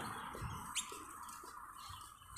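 A single quick bird chirp rings out faintly over a steady, hissing outdoor background, with no voices.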